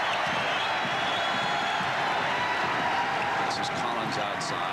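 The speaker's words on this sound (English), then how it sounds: "Crowd alive with the score tied again" A basketball arena crowd at Wake Forest, with Duke visiting in 1994, keeps up a dense, steady roar of cheering. A commentator's voice runs over the top throughout.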